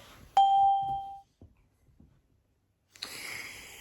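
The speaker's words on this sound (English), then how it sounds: "this sound actually originally was used in the Windows 98 and Windows XP operating systems as a ding" A single bright electronic ding, the Windows 98 and XP chime, rings out clearly on a train in Northern Ireland and fades over about a second, followed by quiet and then a burst of broadband noise.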